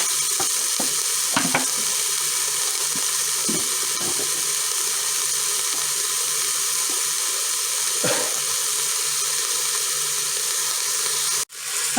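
Sausage meat sizzles steadily in a hot pan, a loud constant crackling hiss with occasional soft scraping and clinks, cutting off abruptly near the end.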